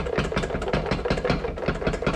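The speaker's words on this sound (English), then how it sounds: "I'm going to continue whisking my yolk mixture." Whisk beating an egg yolk mixture for hollandaise in a bowl, a fast, regular rhythmic clatter and scrape repeating several times a second, close and steady.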